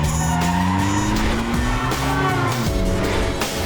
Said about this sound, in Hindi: गाड़ी घुमाओ